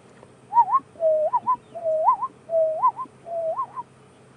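A person whistles a repeated rising, warbling call imitating a zebra, five short phrases in a steady rhythm, on an evening safari drive at Djuma and Arathusa.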